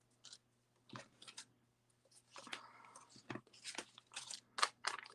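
Scissors snipping through paper while cutting out squirrel shapes for fall card kits. Quiet, close, irregular bursts of crisp cutting and rustling.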